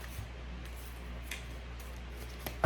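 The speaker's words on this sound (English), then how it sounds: "Let's shuffle these cards" A deck of old, stiff tarot cards is shuffled with a few soft riffling clicks and a louder snap near the end, quiet and close.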